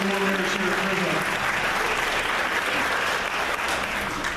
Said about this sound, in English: Everybody give these guys a round of applause.